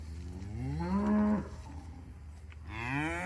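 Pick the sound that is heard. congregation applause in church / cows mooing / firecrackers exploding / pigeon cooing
cows mooing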